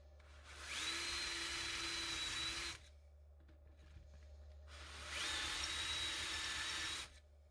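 Two bursts of a power drill on a mini milling machine spotting small marks into a clamped steel sheet, each a steady high whine lasting about two seconds, separated by a quiet pause with a low hum beneath.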